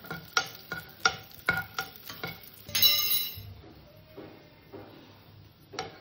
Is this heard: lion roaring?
no